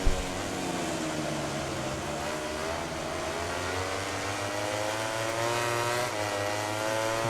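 Racing motorcycle engines in MotoGP 17 at Brno, with two Yamahas out front, a sustained high-revving whine with shifting pitch from several close bikes, steady and loud without pause.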